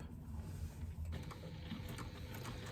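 A sewing machine stitches strap panels at a narrow eighth-inch seam allowance, producing a faint, continuous mechanical whir with soft, even ticking throughout.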